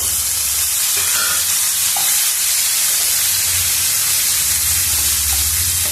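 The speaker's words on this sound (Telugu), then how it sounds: "ఇప్పుడు టమోటా ముక్కలను కూడా వేసుకున్నాము" Tomato pieces sizzle in a pan with fried ginger-garlic paste for alu kurma, a loud, dense, continuous hiss and crackle close by, no voices.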